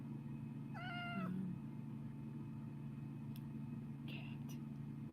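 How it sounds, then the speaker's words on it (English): A single cat meows once, a short rising and falling call heard close over a constant low engine-like hum, with faint whispery voices. "Cat."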